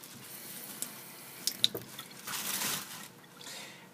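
Water being run or trickled from a tap during an ostomy pouch change, a soft, faint wet wash with a few small splashy clicks and a steadier rush in the middle, with no talking.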